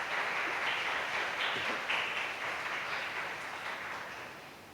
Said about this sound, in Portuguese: Gente, tem que aplaudir o Senhor